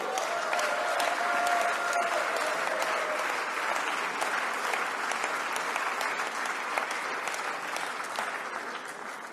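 A French community audience in Montreal claps for students and young researchers during a political speech, with sustained mid-level applause from a sizeable crowd that slowly tapers toward the end.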